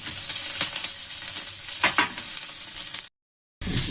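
Grated ginger and green chili frying and being stirred in a pan, giving a steady close sizzle with scraping stir strokes, then a brief cut to silence before the sizzle resumes.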